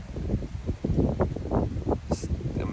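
Wind roars through the trees during a snow storm, a continuous rough rush with gusty swells and rustling close to the microphone.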